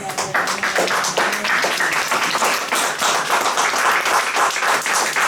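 A church congregation claps in sustained, dense applause, loud and close throughout with no talk over it.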